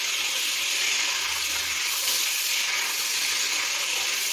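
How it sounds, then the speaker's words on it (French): Loud, steady sizzle of beef frying in a cocotte for boeuf bourguignon, a constant hiss close up with no talking. "J'utilise maintenant ma cocotte. J'ai coupé la fumée. Et je commence à frire."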